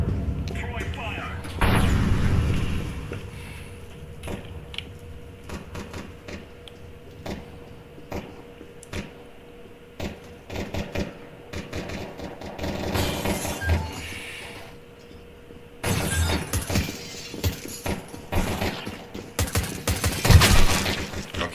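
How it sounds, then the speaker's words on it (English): Incendiary grenade thrown in Counter Strike 2, with bursts of crackling, popping gunfire and booming impacts that come and go across a busy game soundscape, loudest near the start and again toward the end, while a voice talks over it. "Throwing fire."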